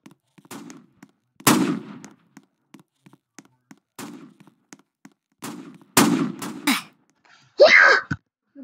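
Sharp cartoonish blasts from an apple gun in the Roblox Brookhaven game burst in a few loud, spaced bursts alongside short vocal noises, with a final harsher shot near the end.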